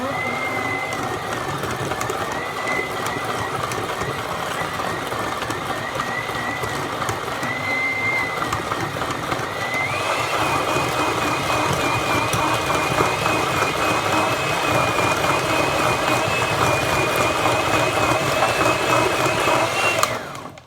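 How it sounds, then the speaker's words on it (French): An electric hand mixer beats egg yolks with sugar in a bowl, giving a steady close motor whine that rises in pitch partway through and stops abruptly at the end. "Je vais ensuite mélanger au batteur électrique les jaunes avec le sucre"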